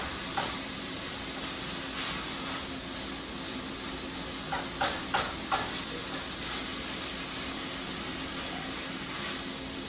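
Ground meat sizzling in a pan as it cooks through, a steady close hiss with a few brief clinks and scrapes of stirring over it.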